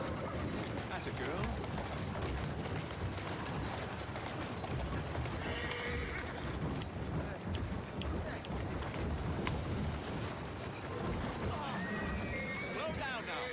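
Hooves gallop in a steady, busy rumble with a couple of faint whinnies from a horse in the video game Assassin's Creed Syndicate, all heard quietly beneath someone talking.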